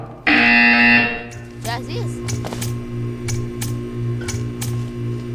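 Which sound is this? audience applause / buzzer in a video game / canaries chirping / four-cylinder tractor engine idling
buzzer in a video game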